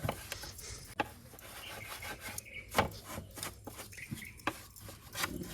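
A rag rubs and wipes over Yamaha NS125 motorcycle parts, making soft scuffing strokes close up with scattered sharper knocks, in an irregular rhythm and with no talk.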